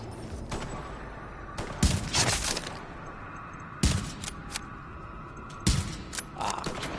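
Gunfire in The Division: three separate sharp cracking volleys a couple of seconds apart, moderately loud over a quiet background hum.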